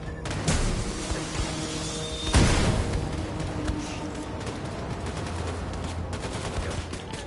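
Gunfire from a PS4 video game, with scattered shots and bursts under a steady game backdrop and a sharper, louder crack near the middle.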